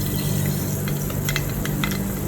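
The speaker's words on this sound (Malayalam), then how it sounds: "അപ്പോൾ അതിനകത്തേക്ക് ഇപ്പോൾ എണ്ണ ചൂടായിട്ടുണ്ട്. നമ്മൾ അല്പം കടുക് ഇട്ട് കൊടുക്കാം." Mustard seeds sizzling in hot coconut oil in a pan, a constant close frying hiss with a low hum beneath and a few faint pops breaking through near the end.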